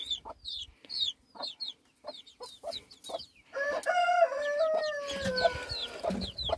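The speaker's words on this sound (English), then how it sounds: "I'm just showing you a couple of my gamefowl" Gamefowl roosters and hens on a farm with a broody hen among them, repeated close clucks in short bursts, then a loud rooster crow rising over the clucking.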